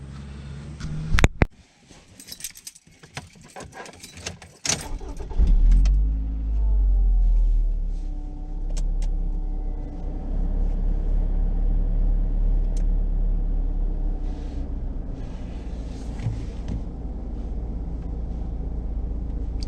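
A Scion tC fitted with a Borla S-Type aftermarket muffler is heard from inside the cabin. Clunks and handling noises come first, then the engine settles into a deep, steady low rumble that rises gently as the car drives off.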